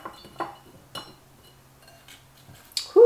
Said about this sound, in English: mason jar and we're going to stuff the onions in here